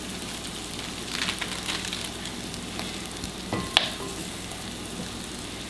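Food sizzles steadily in a pan just after brown sugar goes in, a soft continuous crackle with a few stirring scrapes and one brief clink partway through.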